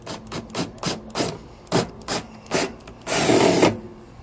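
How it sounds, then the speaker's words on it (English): Drilling with a 13/64 drill bit through a plywood RV floor for step installation on a 2016 Forest River Salem camper, heard as a series of short, close grinding bursts in a stop-start rhythm, ending in a longer, louder sustained run. "We're going to use a 13/64 drill bit."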